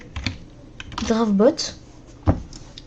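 A handful of sparse, close keystrokes on a computer keyboard, typed into a Discord app directory search. A short voiced sound breaks in midway between the clicks.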